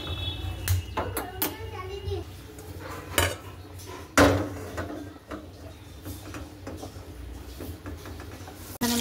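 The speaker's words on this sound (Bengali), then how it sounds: "আর এখানে আমি বসিয়ে দেবো কড়াই।" A metal kadai set down on a kitchen stove, with several sharp clanks of pots and utensils scattered through the stretch, one loud knock near the middle, while children's voices and household noise carry on in the background.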